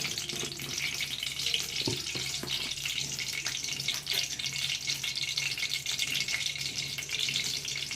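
Ash gourd sizzling steadily as it fries in ghee with a little white oil, a close, constant hiss with a few faint clinks of stirring, no voices.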